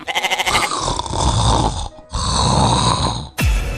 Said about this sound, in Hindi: किसी को सोने दोगे या फिर यूं ही कुंभकर्ण बने खर्राटे लेते रहोगे?